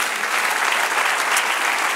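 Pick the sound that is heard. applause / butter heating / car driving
applause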